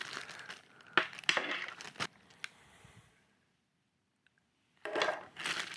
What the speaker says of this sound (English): Go ahead and start unwrapping all this stuff a while.